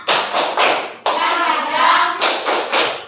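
Schoolchildren in a primary classroom perform a rhythmic clap chant, loud close bursts of clapping in a patterned beat with a short sustained stretch between groups.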